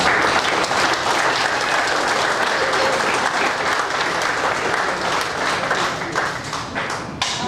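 A banquet audience at an annual golf event breaks into steady, dense applause that holds loud for over seven seconds before tapering slightly at the end.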